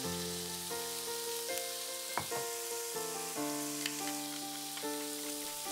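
Seasoned beef slices frying on high heat in an oiled pan, a continuous soft sizzle with faint crackles heard under steady background music, no talking.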